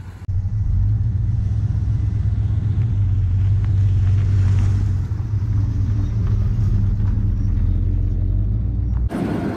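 Steady, loud low rumble of a 1987 Ford F-250 single-cab long-box four-wheel-drive pickup with a carbureted 460 V8 while driving, an even drone with slight surges that cuts off near the end.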